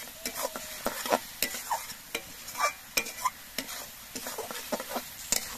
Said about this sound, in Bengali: এবার কিছুক্ষণ জাল দিয়ে মশলাগুলোকে কষিয়ে নিতে হবে।